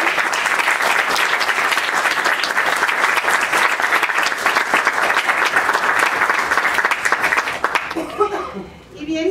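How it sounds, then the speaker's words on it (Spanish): An audience at an awards ceremony for the Arte, Ciencia y Luz prize breaks into sustained, dense applause for several seconds. The clapping then fades and a voice begins speaking near the end. "Por favor, un aplauso para nuestro..."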